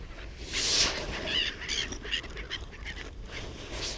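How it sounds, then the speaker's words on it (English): Seagulls squabble over scattered crackers and peanuts in woodland, harsh overlapping squawks and calls in quick bursts, fairly close, with no talking. "crashing seagulls"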